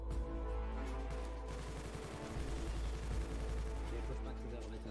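Dense, continuous gunfire rattles through a Garry's Mod SCP roleplay firefight, loud and sustained bursts overlapping with no pause, with voices faintly mixed in.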